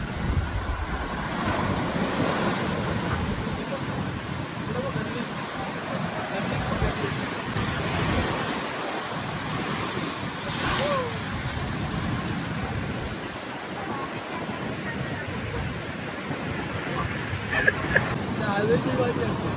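Rough monsoon ocean surf at Kihim Beach roars continuously with heavy wind buffeting the microphone, a steady loud wash of breaking waves.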